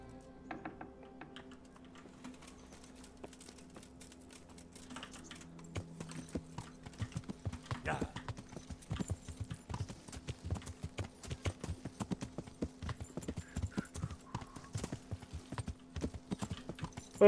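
A horse's hooves clip-clop in Kingdom Come: Deliverance, starting sparse and then settling into a steady, close trotting rhythm of sharp, even hoofbeats that continues to the end.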